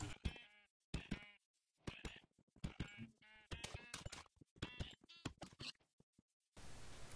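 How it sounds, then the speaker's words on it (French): Sheep in Minecraft bleat repeatedly, several loud, close, quavering baas in quick succession separated by short silences, followed by a burst of noise at the end. "On a des moutons ici."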